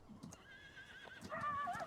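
A horse in the video game Farming Simulator 19 neighs with a loud, rising whinny near the end, after a stretch of quieter in-game sound.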